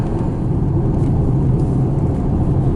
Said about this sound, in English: the sound when it's accelerating, just so good